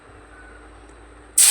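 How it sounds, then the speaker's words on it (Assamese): Onions and green chillies hit hot oil at the very end, a sudden loud sizzling hiss after a quiet stretch. "এয়া তেলত মই পিঁয়াজ আৰু জলকীয়া দি দিলোঁ"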